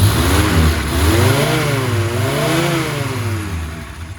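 A 1098 A-series transverse engine with an HS2 carburettor in a Morris Minor warming up, running steadily close by with a gently wavering idle, no talk.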